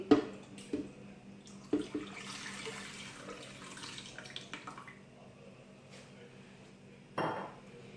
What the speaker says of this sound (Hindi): ब्लेंडर में सबसे पहले मैं पानी को ऐड करूंगी।